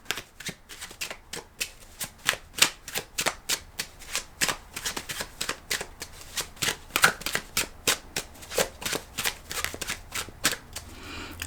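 Tarot cards being shuffled in a rapid, steady riffle of crisp papery slaps and flutters, close up and alone, running continuously without pause.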